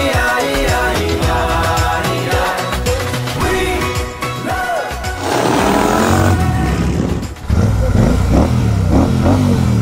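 A motorcycle engine roars and revs loudly near the rider on a mountain ride in Sikkim, rising and falling with throttle blips and grunting bursts over about ten seconds, with no talk over it.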